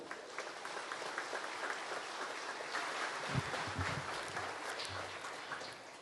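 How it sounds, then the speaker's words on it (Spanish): A church congregation at Sunday Mass in Caacupe applauds in a faint, distant, continuous patter lasting several seconds. "Para ellos, bienvenida con un fuerte aplauso."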